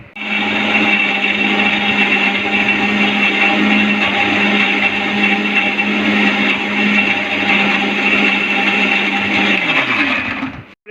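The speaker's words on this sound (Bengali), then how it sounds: "এখন ব্লেন্ড করে নিচ্ছি।" A kitchen blender whirs continuously while blending green mango juice, a loud steady motor drone that runs alone for about ten seconds before cutting off abruptly.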